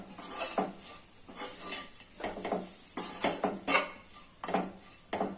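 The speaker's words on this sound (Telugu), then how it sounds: "బాగా నువ్వోడి వేసి బాగా కలపండి." Utensil scraping and clattering against a pan while fenugreek noodles are tossed with sesame seeds, a steady run of stirring clinks and scrapes close by, with no talk.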